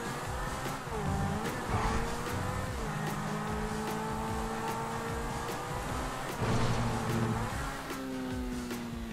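Racing car engine in GTA V revving and shifting pitch continuously, with rising and falling tones under a dense, steady roar of game sound throughout.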